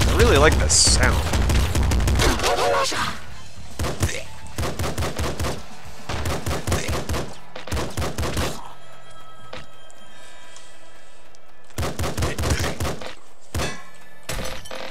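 Pistol and machine gun fire in the top-down shooter Nuclear Throne, loud bursts of rapid shots in clustered volleys separated by brief pauses, with some speech mixed in.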